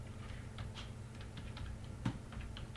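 Soft, fast keyboard typing under a steady background hum, the keystrokes light and irregular with one slightly louder tap near the end.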